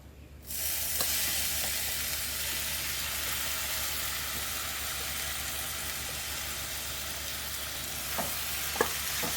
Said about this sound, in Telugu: ఇందులో మనం ముందుగా ఉడికించి పెట్టుకున్న ఈ పెసరపప్పుని ఒకసారి కలిపేసుకొని ఇందులో యాడ్ చేసేద్దాం